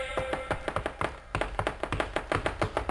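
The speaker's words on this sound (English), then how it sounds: "Wake, Duncan, with thy knocking!" Sharp knocks on wood, a sound effect in a Macbeth scene on a children's Shakespeare record, come in a fast, repeated, fairly even rhythm with a brief pause partway through.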